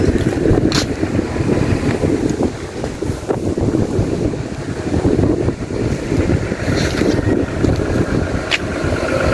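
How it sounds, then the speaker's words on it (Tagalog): Strong gusts buffet the microphone in heavy, roaring bursts over a constant wash of surf, with no one speaking. "Ang lakas po ng hangin."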